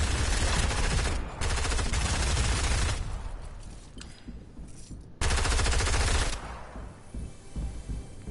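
Rapid automatic gunfire in the video game Fortnite, loud dense bursts of shots with short pauses and a sudden restart, echoing over a busy battle backdrop.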